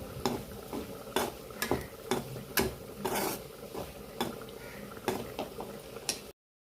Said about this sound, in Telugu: కాసేపు సిమ్లో పెట్టుకొని వేయించుకోండి ఫ్రెండ్స్.